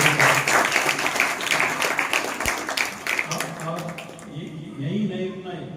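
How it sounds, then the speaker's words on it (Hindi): Audience applause at the opening of a charitable trust's health care centre, a dense wash of clapping running throughout under a voice addressing the crowd, tapering off toward the end. "सब जने एक बार तालियां सबको।"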